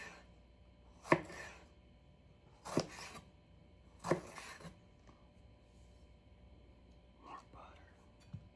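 Knife chopping a jalapeno on a cutting board, a few sharp separate chops spaced about a second apart, close and fairly quiet, with soft faint whispery voices in the background.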